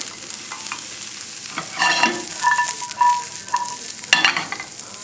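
Asparagus and other salad ingredients sear in a pan over a very high flame, giving a steady close sizzle with stirring clatter and a sharp utensil knock near the end. No one speaks.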